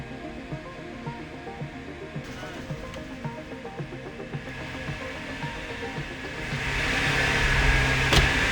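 A hydraulic convertible top on a car being actuated in a workshop, a whirring pump drone with regular mechanical clicks, rising into a louder rushing hiss near the end.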